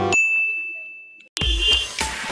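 A notification bell sound effect rings out with a clear sustained ding that fades, followed by a louder clanging burst of hits and chimes.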